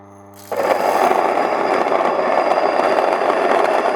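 A Mockmill 100 electric grain mill grinding wheat on a coarse setting, starting abruptly after a brief low hum and then running as a loud, steady gritty whir with rattling grain, alone and close.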